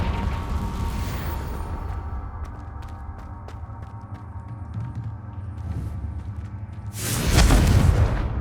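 Confringo spell blasts in Hogwarts Legacy: a loud whooshing boom opens, mechanical clicks and ticks follow, then a second heavy burst erupts near the end, close and forceful.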